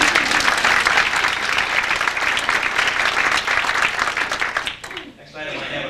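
Staff applauding at an all-staff meeting, a steady wash of many hands clapping close by for about five seconds, then quickly dying away into room noise and voices.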